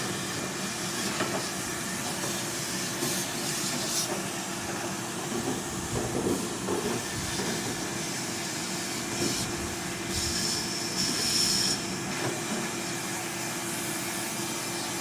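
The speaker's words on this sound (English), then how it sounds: "Hitting it with the vacuum." A shop vacuum sucks ash out of a pellet smoker outdoors, giving a steady loud whooshing hiss with a constant motor whine that runs the full length, with no talking.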